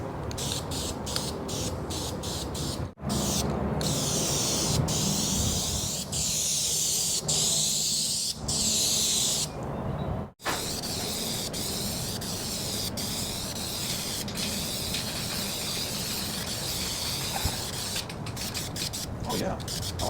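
A spray can hisses out a sticky coating onto a rebuilt inline-six engine going into a 1948 Chevy, in long steady bursts with brief pauses between them, close and fairly loud, with talk in the background.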